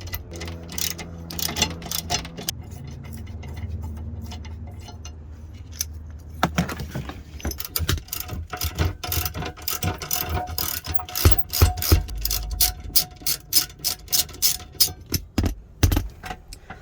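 A 50 Torx ratchet removes the seat belt bolt in a Freightliner Cascadia semi truck cab, with close rapid ratcheting clicks in bursts, a few metallic clanks and jangles, and a faster run of clicks near the end.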